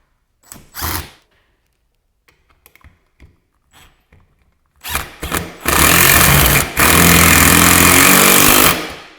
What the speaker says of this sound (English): I'm going to finish tightening these screws